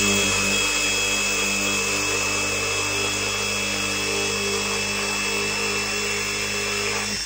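A drill fitted with an Armeg masonry impact bit works against a reinforced concrete lintel, giving a steady, loud whine with a constant grinding rasp that runs unbroken throughout and cuts off at the end.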